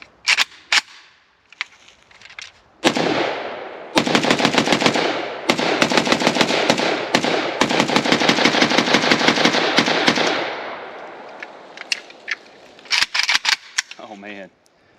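An Arsenal SAM5 AK rifle from Bulgaria fires a full magazine of mixed ammunition in long, rapid strings of loud, sharp reports, with brief pauses between bursts and a few scattered single shots.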